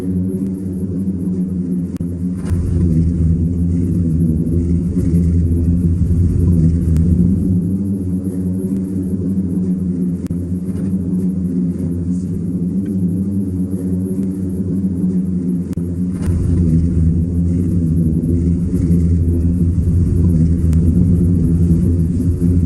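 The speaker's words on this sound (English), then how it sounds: "that kind of low hum, that wasn't the wind. That was actually the sand." A deep, droning hum from a singing sand dune, steady and loud for the whole stretch, with no voices.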